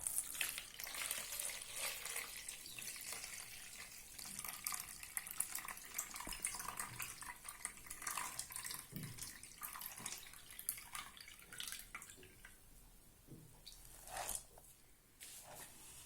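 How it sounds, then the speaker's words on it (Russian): Soaking water poured off swollen whole oat grains during sprouting, a faint, continuous watery trickle and splashing with a few louder splashes near the end, close and quiet. "Солью всю воду."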